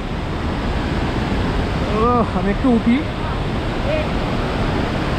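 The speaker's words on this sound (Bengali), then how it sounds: "কিন্তু আপনাদেরকে দেখিয়ে দিই এই ঝর্ণাটা, খুব সুন্দর ঝর্ণা।" A waterfall in the mountains of North Sikkim, near a hot spring, gives a steady, loud rushing wash throughout, while a person speaks briefly over it.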